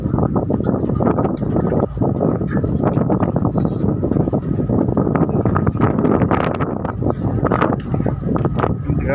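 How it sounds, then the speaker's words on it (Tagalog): Strong wind buffets the microphone on the open rooftop deck of the ferry M/V St Michael Arcangel crossing between Batangas and Mindoro, a loud continuous rumble and gusting roar with faint boat engine noise beneath. "Sobrang hangin. Ang lakas na hangin doon eh."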